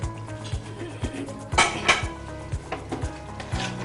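Metal pressure cooker lid set onto the pot in a kitchen, a series of sharp clanks and scrapes of metal on metal, close and loud, spaced irregularly over a few seconds.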